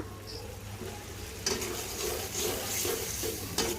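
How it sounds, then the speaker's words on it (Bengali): Onions hiss and sizzle in a pan, with a few scraping stirs and light clinks, fairly quiet and close. "পেঁয়াজ দিলাম পেঁয়াজটা ভাজা হয়ে গেল"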